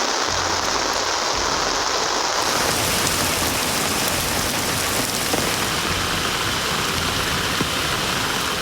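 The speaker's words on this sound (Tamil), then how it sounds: "மாவட்டத்தின் பல்வேறு இடங்களிலும் கனமழை பெய்தது." Heavy rain from Cyclone Ditwah pours down across Tamil Nadu in a dense, continuous, loud hiss of water striking surfaces that never lets up.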